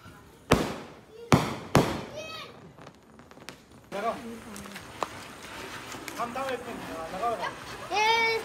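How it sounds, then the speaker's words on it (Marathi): Diwali firecrackers go off: three sharp, loud bangs in quick succession early on, then a few fainter pops, with people chattering and shouting excitedly throughout. "फटाके फोडायचा टाइम आला आता आपला"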